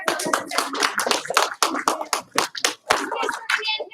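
A classroom of students claps together in a quick rhythmic chant pattern, loud and close, with sharp bursts of hand claps mixed with voices.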